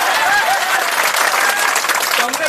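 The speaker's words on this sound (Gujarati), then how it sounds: "તાળીઓ તમારી તાળીઓ સાંભળવા હું નથી આવ્યો આટલી દૂરથી" Sustained audience applause at a political rally, dense crowd clapping, fairly loud and continuous, with voices mixed in.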